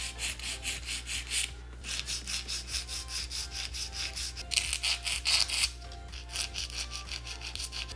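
Rhythmic rasping strokes of a rigid metal nail file shaping stiletto nail tips to a point, close and steady, with brief pauses between bursts of filing.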